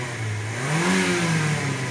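A 2018 white Mitsubishi Xpander with a 1.5L engine revs up and settles back, its mid-pitched engine note rising and falling in one smooth swell, close and alone.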